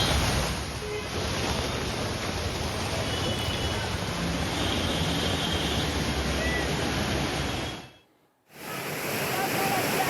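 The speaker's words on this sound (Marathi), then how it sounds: "अंबरनाथमधील बालधुनी नदी दुथडी भरून वाहत आहे" Baldhuni river in Ambernath running in full flood after a morning of heavy rain, a loud, steady broadband roar of rushing water with wind buffeting the microphone, cutting out briefly near the end before resuming.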